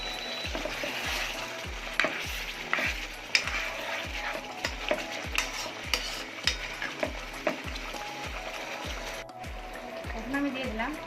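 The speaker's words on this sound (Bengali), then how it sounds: "এখন আমি এটাকে সুন্দরভাবে নেড়ে চেড়ে 5 থেকে 7 মিনিট কষাতে থাকবো।" Chicken rezala pieces being stirred and fried in a pan, with quiet background sizzle under a regular series of about a dozen rhythmic scraping strokes of a spoon against the pan.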